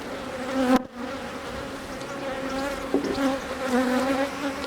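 A crowded, queenless hive box packed with honey bees fills the air with a dense, steady, close buzz, broken once early by a brief dull knock.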